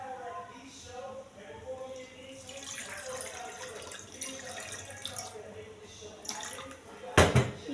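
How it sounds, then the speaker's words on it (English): Cold tap water runs into a cooking pot while dinner is made in a home kitchen, a steady gushing stream that briefly surges louder near the end. Someone talks over much of it. "So I'm going to add a quarter of cold water, or let me just say normal water, into the pot."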